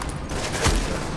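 Gunfire aimed at the player in The Division, a muffled burst of shots with one heavier thump in the middle, loud and continuous across the moment with no talk.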